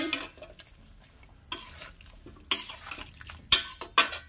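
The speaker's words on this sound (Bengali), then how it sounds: "একটু নাড়িয়ে" Salt being stirred into a pot of Bengali-style shish palong, with a few sharp clanks of a spoon against the metal pot standing out over a quiet background, no talk.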